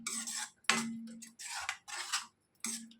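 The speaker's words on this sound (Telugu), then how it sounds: "ఈ విధంగా పెరుగును యాడ్ చేసిన తర్వాత చక్కగా కలుపుకోవాలి" A spoon stirs curd into okra kurma in a pan, giving a run of close, crisp scraping and clinking strokes with brief pauses between them.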